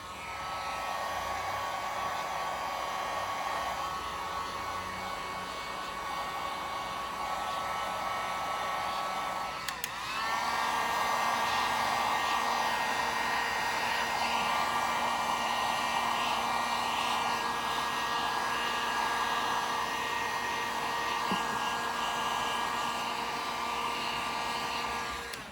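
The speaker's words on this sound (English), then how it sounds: "let me grab the heat gun. We're gonna do that clear layer we just laid." A heat gun blows hard and steady while drying a freshly laid clear paint layer, a continuous whining hiss that briefly cuts out and restarts with a slightly shifted pitch, with no talking over it.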